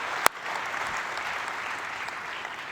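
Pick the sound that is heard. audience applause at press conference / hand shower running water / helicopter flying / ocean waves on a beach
audience applause at press conference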